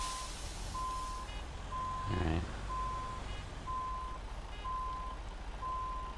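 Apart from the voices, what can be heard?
truck reversing beeps in a video game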